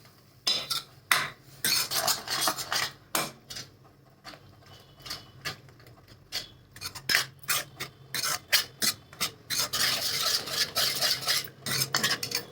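Peanut curry (shengdana amti) being stirred in a pan after hot water is added, a spoon scraping and clinking against the metal in quick repeated strokes, close and fairly loud with short pauses, no talking.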